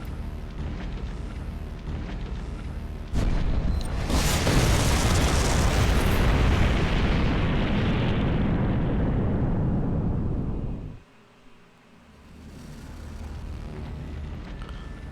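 Artemis's arrow blast in the video game Fate/Grand Order: a sudden massive roaring explosion that swells in and holds as a dense, loud rumble for several seconds, then cuts off abruptly before quieter game ambience returns.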